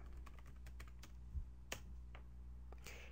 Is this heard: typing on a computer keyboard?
yes